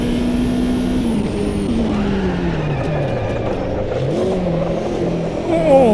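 Nissan rallycross car in Automobilista 2, engine note rising and falling through gear changes as it drives, loud and close with a whine and a rev climb at the end.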